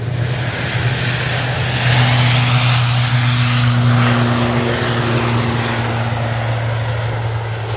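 A propeller airliner bound for Newquay moving on the ground at Manchester Airport, a loud steady engine drone with a low humming tone that holds for the whole stretch, fading slightly toward the end.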